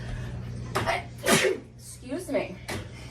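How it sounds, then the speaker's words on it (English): A woman sneezes loudly once in a home, with a short gasp before and small sounds and breaths after. "And I'm gonna sneeze."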